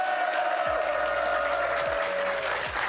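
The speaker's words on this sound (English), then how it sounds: "Give yourselves a round of applause." A crowd in an esports arena applauds at the Rocket League championship, a steady wash of clapping and cheering with a sustained tone over it and a few low thumps.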